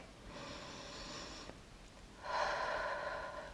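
Two slow, audible breaths during a chair yoga exercise, a long inhale followed after a pause by a stronger exhale, close and calm with no talking.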